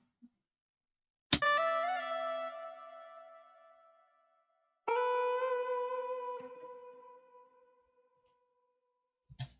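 Two plucked guitar phrases for an Amapiano beat ring out clean and alone, each decaying slowly through reverb and delay tails, separated by a short gap, with faint clicks at the edges.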